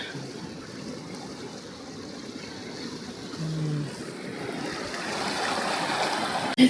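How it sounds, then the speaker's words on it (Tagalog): Strong river current rushing past a canoe on a cold mountain lake setting near Banff, a steady broad wash of flowing water throughout with a brief low tone midway and a short knock at the end. "Malakas lang talaga yung current ng water"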